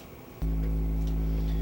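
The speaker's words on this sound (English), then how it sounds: "We're gonna fuck around with an analog sequencer" Analog synth sequencer, silent for a moment and then a loud, steady low droning pattern that holds on one unchanging pitch without any talk.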